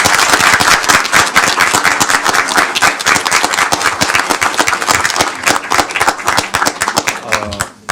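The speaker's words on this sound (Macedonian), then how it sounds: "Ќе ве молам еден огромен аплауз за сите." Loud, sustained applause from an audience at a mock European Court of Human Rights trial event, dense rapid clapping filling the room close up before it tapers off at the end.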